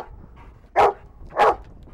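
A search and rescue dog in training gives two sharp, loud barks about half a second apart over a quiet background.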